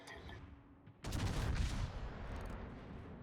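Battleship main-gun salvo in World of Warships from a T8 American Massachusetts with nine 406mm guns, a sudden loud boom after a quiet first second, followed by a rumbling roar that slowly tapers.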